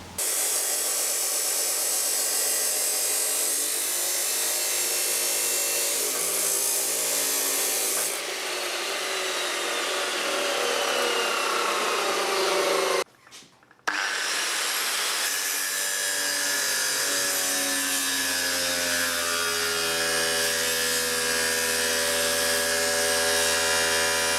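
A power tool grinds a cope joint into angle iron, a loud, continuous abrasive whine with shifting pitch and a brief stop partway through before cutting resumes, close and steady.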